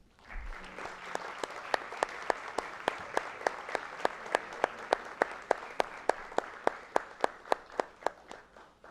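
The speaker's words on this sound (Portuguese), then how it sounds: "Agradecemos aos membros com uma forte salva de palmas" Applause from an audience at a theology graduation ceremony at PUC-Campinas, a dense, steady wash of clapping that swells and holds for several seconds, with a few sharp synchronized claps rising above the crowd.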